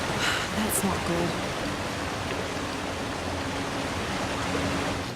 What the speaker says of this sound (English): I hear water. That's not good.